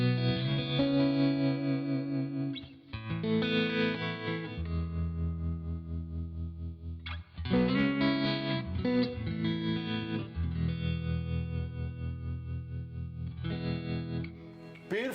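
Electric guitar played through an amp with heavy, washy reverb and some distortion, chords ringing out continuously with a brief pause midway.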